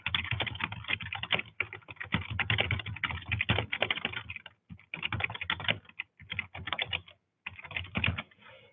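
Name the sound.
typing a project description on a computer keyboard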